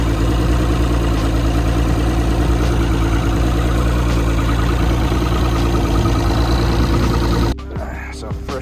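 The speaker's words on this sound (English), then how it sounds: "So first time starting the motor" A 225 two-stroke outboard motor on a fishing boat runs loud and close, a dense, steady idling roar that suddenly drops to a much quieter rumble near the end.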